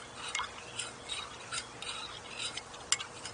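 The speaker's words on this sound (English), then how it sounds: "So let's keep stirring." A spoon stirs dye-colored liquid in a container to dissolve gel, giving soft, irregular clinks and scrapes at a steady, unhurried pace, fairly quiet with no talk.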